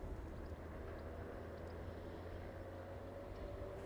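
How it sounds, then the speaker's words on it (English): Propeller engines on an aircraft at East Midlands Airport wind down after the plane stops, a faint, steady low drone and hum heard from a distance with no voices. "Ground crew just to the front of the aircraft, waiting for those propellers to"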